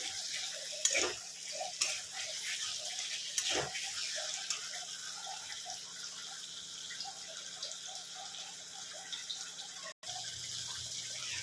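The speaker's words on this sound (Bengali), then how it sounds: "এই দেখুন আলুটাও খানিকটা কষিয়েই নিলাম।" Raw potatoes sautéing in a pan, giving a soft, continuous sizzle with a few scattered utensil taps early on, fairly quiet and close, with no voice.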